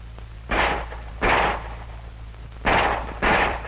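An M1911 .45 caliber pistol fires four reports during point-firing practice, in two pairs with a long gap between, each a heavy, somewhat muffled boom heard at a distance over low background noise, with no talk.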